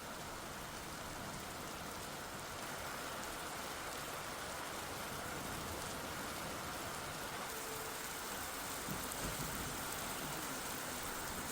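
Heavy monsoon rain in Uttarakhand pours down as a dense, constant hiss and patter with no break, steady and loud throughout.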